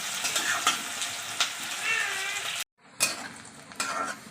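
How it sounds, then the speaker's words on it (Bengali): Onions frying until deep red for black pepper chicken sizzle loudly in a pan with occasional stirring scrapes, then cut to a brief silence before the hissing and stirring resume. "ভালো করে লাল লাল করে ভেজে নেব পেঁয়াজটা।"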